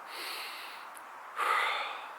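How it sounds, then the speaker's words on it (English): A slow, deep human breath, soft and close, with a gentle inhale followed by a fuller, slightly louder exhale, heard alone without speech. "Take a slow breath."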